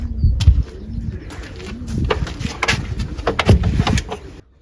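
Racing pigeons cooing inside a pigeon loft, soft repeated low coos close by with scattered fluttering and knocks, no talking.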